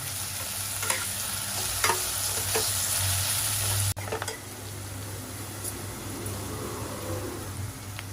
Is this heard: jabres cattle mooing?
no